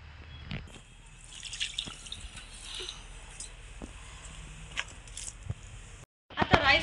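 Rice water is poured into potted plants, giving soft, faint drips and a light trickle at close range, ending in a brief louder splash.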